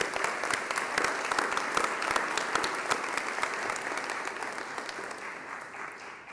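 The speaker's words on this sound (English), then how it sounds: "I just ask a round of applause for the parents, grandparents, aunts, uncles, all the families for these folks" Sustained audience applause at a military signing day ceremony honoring the families of recruits, loud and steady from start to finish, with no talk over it.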